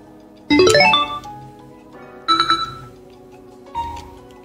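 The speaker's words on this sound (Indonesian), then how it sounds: "Dan yang saya suka dari speaker ini adalah suara notifikasinya." A bright electronic notification chime from a Mifa K3 Bluetooth soundbar sounds three times, a rising tone sequence followed by two shorter chiming notes, clear and close with quiet gaps between.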